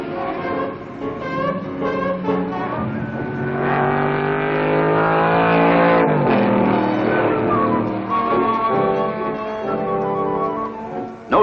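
Ford Cortina race car pulling out of the pits at Sebring, its engine loud and close, revving through rising and falling gear pitches in a sustained, strained howl.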